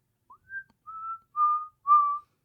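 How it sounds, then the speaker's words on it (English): A person whistles a short tune of four clear, rising and sliding notes, close and alone against silence. "Keep whistling."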